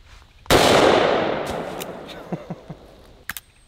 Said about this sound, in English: We're shooting this one out of the Taurus Ultralight 44 Magnum.